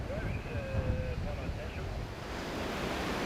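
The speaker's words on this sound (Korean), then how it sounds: "그 역시 오늘 파도가 세다고 한다" Strong surf breaking on a Sydney beach, a close, steady roar of waves mixed with wind buffeting the microphone, with faint voices and whistle-like tones over it.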